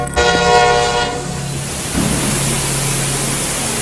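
A train on a railway sounds a loud, sustained horn blast at the start. The horn then gives way to steady, rumbling rail noise that continues to the end.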